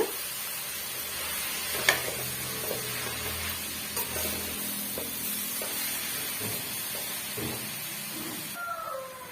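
Shredded cabbage and egg stir-fry in a pan, giving a soft, continuous sizzle broken by scattered scraping and stirring clicks from a spatula, fairly quiet and close.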